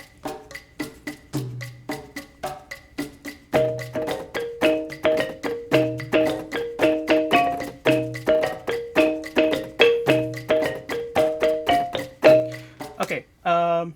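A bright plucked pentatonic melody in a traditional Kalimantan style cycles over a busy, steady percussion groove, with low drum hits under it and a rising swoosh at the end.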